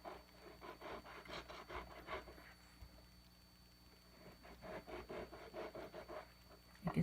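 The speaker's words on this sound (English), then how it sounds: "I'm going to slice it vertically a couple slices." A knife slicing a tomato vertically on a cutting board makes a rapid series of soft rhythmic rasping strokes, close and very quiet, with a short pause midway before the cutting resumes.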